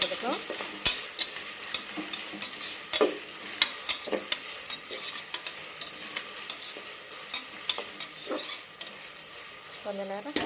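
Onions stir and fry in a pan, with a soft continuous sizzle broken by frequent scraping clicks of a spoon against the metal as the pieces are turned. The sound is close and fairly quiet, with no talking.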